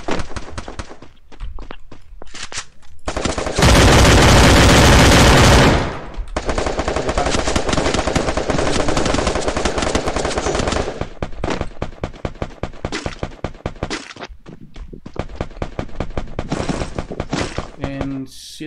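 Rapid bursts of automatic gunfire in the shooter game Free Fire, with a loud continuous volley early on followed by repeated staccato shots and scattered single cracks, close and intense throughout.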